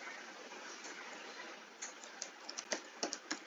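Keyboard typing while entering Java code for a linked hash map, starting as a faint steady hiss and building to a series of distinct, irregular key clicks in the final two seconds.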